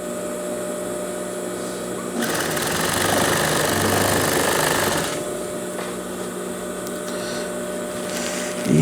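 A sewing machine stitches a straight seam along a pajama leg, its motor humming in the background, then rising into a close, loud, fast run of stitching for about three seconds before easing back.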